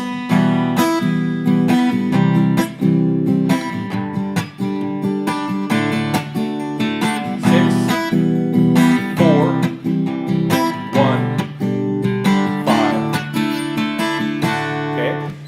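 Strummed guitar chords move through a short progression, each chord ringing out in a steady rhythm, close and fairly loud with no voices.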